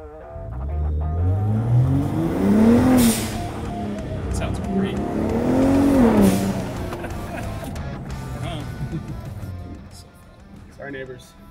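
Engine of a 2024 Ford Raptor pickup revs twice, each rising and falling, loud and close, with people talking throughout.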